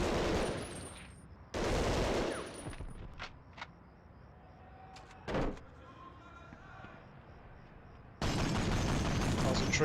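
Machine-gun nest firing in the World War II shooter game Medal of Honor Underground, with loud bursts of automatic fire at the start and end, separated by quieter single shots and clanks.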